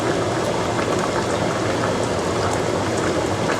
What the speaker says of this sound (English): Just put them in there like so. Because you want to saute them.